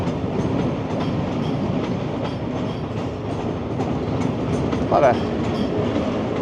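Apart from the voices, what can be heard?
Via Rail passenger train passing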